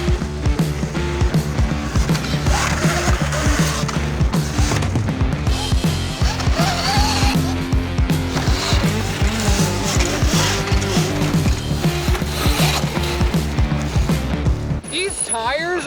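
A dirt bike rips around a backyard dirt track with berms. The engine revs loud and close, rising and falling through the corners, with tire skids and slides.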